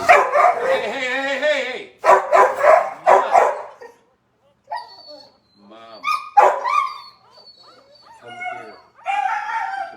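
Dogs, including puppies, bark in loud close bursts, then whimper and yip in higher, thinner cries, with a person speaking briefly among them.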